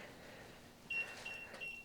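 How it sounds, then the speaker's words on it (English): Electronic beeps from an Infinity Shield garage door sensor, a few short high-pitched tones in quick succession, fairly faint over a low background hum, with no voices. "you could tell just one little beep and that would reverse the door"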